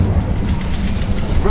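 The Incendio fire spell is cast in Hogwarts Legacy, giving a dense, roaring whoosh of flame that stays loud and steady through the short burst with a low rumbling body.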